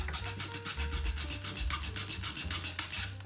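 A hand file rasps back and forth across the edge of a plastic toy blaster magazine, in quick, regular strokes, about a dozen scraping passes, close and clear, with no talking.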